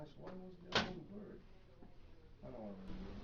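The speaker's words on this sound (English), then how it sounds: "Close the rear door." A Xerox Phaser 4500/4510 laser printer's rear door swung shut during a maintenance kit replacement, a single close plastic clack, with a voice talking before and after it.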